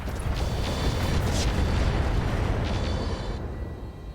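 Mech weapons in the RogueTech battle game fire on full auto as a dense, rumbling barrage of overlapping booms and blasts, loud and continuous before easing off slightly at the end.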